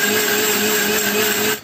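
A mixer grinder grinds thick bread into crumbs with a loud, steady whirring drone that holds without a break and then cuts off abruptly at the end.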